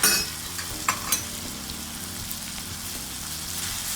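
Chicken with kasuri methi sizzles steadily in a pan, a close, continuous frying crackle with a few stirring clinks at the start.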